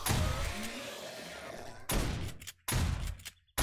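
Gunfire in the zombie survival game 7 Days to Die: a burst of several shots with a noisy tail, then two more separated loud bangs, close and fairly punchy with short silences between.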